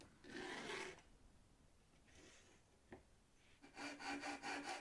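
A pencil scratches around a scrap wood bracket in quiet bursts of rubbing strokes, ending in a quick rhythmic series of short scrapes.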